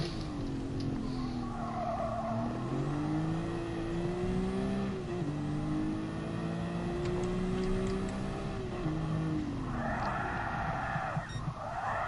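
A Group 1 race car in Gran Turismo Sport drives with a steady, droning engine whose pitch rises and dips through gear changes, with brief tire skids near the end, loud and continuous.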